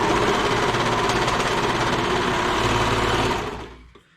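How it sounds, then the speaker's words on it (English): A sewing machine stitches a folded sweater cuff in one close, continuous run of rapid, even whirring, which slows and stops just before the end. "take that to the machine and sew it just like normal"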